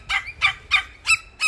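A chicken roaming free in a country yard gives five evenly spaced, loud squawking calls close by, each a short harsh burst separated by brief quiet.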